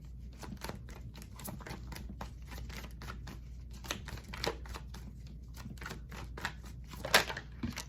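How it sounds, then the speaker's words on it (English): Rapid crisp riffling clicks of tarot cards being shuffled, repeated in quick bursts at close range with a sharper flutter near the end. "what I'm getting just shuffling through these cards, they just keep flying out everywhere"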